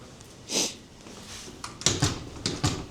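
A door opens at Finch West LRT station: one muffled thud, then a run of sharper clicks and knocks from the handle and latch, close by in a quiet space.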